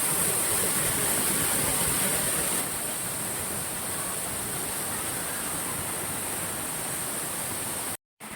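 Waterfall at Tiguis, Lila, a dense, loud, unbroken roar of falling water heard up close, ending in a brief dropout.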